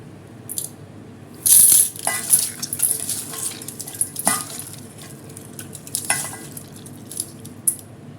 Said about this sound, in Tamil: தக்காளியை இந்த மாதிரி நல்லா கரைச்சி எடுத்துக்கணும்